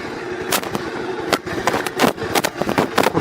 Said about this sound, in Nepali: तपाईको बाइक स्टार्ट भइसक्यो